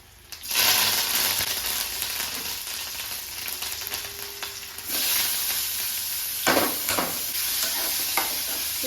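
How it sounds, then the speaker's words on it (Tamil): Mustard seeds splutter in hot oil beside cluster beans cooking in a pan, a continuous sizzle broken by stirring scrapes and a few sharper crackling bursts, close by with no voices. "கொத்தரங்காய் வெந்துக்கிட்டு இருக்கு. கருகு வேற பொரிஞ்சிட்டு"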